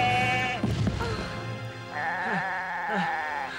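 A cartoon goat from an animated Heidi film bleats in several wavering, nasal calls, with a loud cry up front and shorter bleats following, and no talking.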